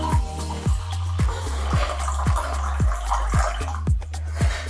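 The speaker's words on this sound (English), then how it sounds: "Now I am going to add water for this level." Water is poured into the jar of a Prestige Deluxe Atlas 750W mixer grinder, a gurgling glugging stream with rhythmic drops and splashes, close and fairly loud throughout.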